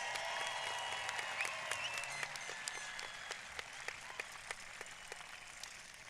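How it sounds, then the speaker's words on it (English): Applause from the audience at a 2022 high school commencement for the graduating class, a dense steady wash of many hands clapping with a few sharper claps standing out, moderately loud and sustained throughout. "How about a round of applause for the 2022 graduates?"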